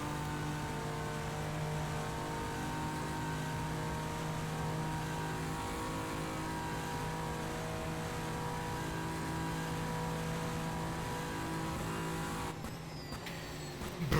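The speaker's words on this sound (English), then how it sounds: "Now this is really where you get the oomph of the Nissan GT-R LM." A Nissan GT-R LM race car in a Le Mans racing game roars down a straight toward a chicane, a loud sustained engine drone holding steady for many seconds before a sudden abrupt change near the end.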